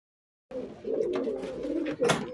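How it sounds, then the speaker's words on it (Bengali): Pigeons, including a Pakistani Fakir Gull male and a Golden female, coo softly at close range in a few low, throaty rolling calls that start after a short silence. "তা যেমন পায়রা সেরকম পায়রা চলুন দেখাই পায়রাগুলো"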